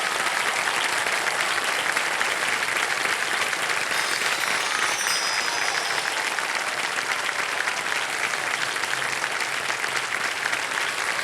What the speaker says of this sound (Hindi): खूबसूरत अनन्या पांडे जी का तालियों के साथ स्वागत करें।